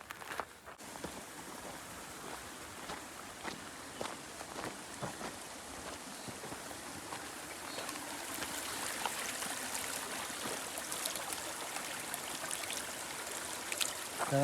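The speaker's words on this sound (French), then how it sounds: "là on entend le petit ruisseau" A small mountain stream in Corsica flows and trickles steadily nearby along a forest track, a continuous bright wash of water with no voices.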